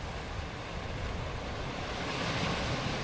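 Ocean surf washes steadily onto a sandy, rocky beach at an exposed, unprotected shoreline, a dense continuous rush of water with wind noise and no voices.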